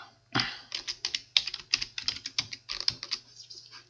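A password being typed on a computer keyboard during a software installation on Windows: a quick, close run of crisp key clicks in an uneven rhythm, with no talking.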